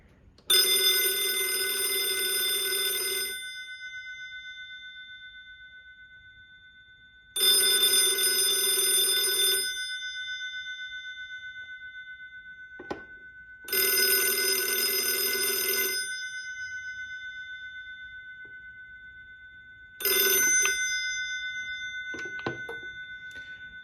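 A 1954 OKI Electric Type 4 rotary telephone bell rings in four long metallic bursts with pauses between, close and loud, and a few faint clicks in the gaps.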